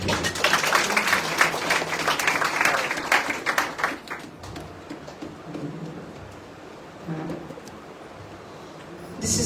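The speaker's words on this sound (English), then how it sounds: "Clap your hands for the Lord." A church retreat congregation clapping their hands together: dense, lively applause from many people that gradually thins and fades, with a brief burst returning at the end.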